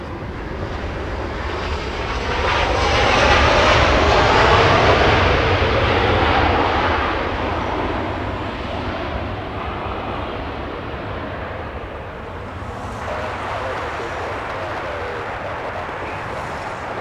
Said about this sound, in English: Is this the Virgin Atlantic already? Yes, it is. Number 3 for arrival.